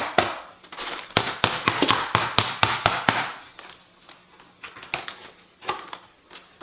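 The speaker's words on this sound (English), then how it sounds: "I'm going to use my pruners here. I'm just going to tap around, trying to loosen the soil from the pot." Pruners tapping around a large indoor plant pot to loosen the soil, a run of sharp, close knocks in quick succession followed by sparser, softer taps.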